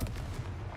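A Confringo fire spell blast in Hogwarts Legacy, a heavy booming burst with low rumble that rolls on steadily for under a second, loud and close.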